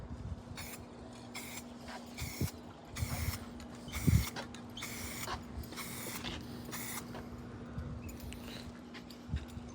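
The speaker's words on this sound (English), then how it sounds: "and we're gonna start spraying." Spray can with a clear-coat attachment misting clear coat onto a carbon fiber spoiler for a Lexus, heard as several short hissing bursts in sequence at close range, with faint clicks and mechanical handling sounds between them.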